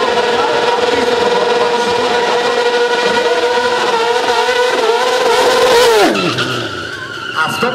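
A motorcycle at a moto show screams past a crowd with a loud, sustained high-revving engine and tyre squeal, the pitch dropping sharply as it passes, then fading.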